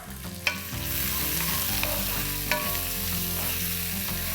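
Salted onions fry in a pan for chicken keema rice, a steady, close sizzle with a couple of sharp clicks from stirring and no voices.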